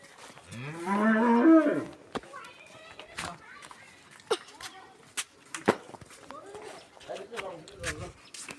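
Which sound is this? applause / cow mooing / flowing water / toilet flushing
cow mooing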